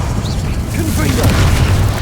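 A fiery Confringo spell blast in Hogwarts Legacy, a loud booming burst with a rumbling low end, heard together with a voice shouting.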